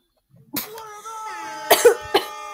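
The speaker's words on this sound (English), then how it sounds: "I have a real bad cough right now." A person's coughing fit, a few harsh, close coughs in quick bursts with a throat-clearing quality, loud and alone with no talk.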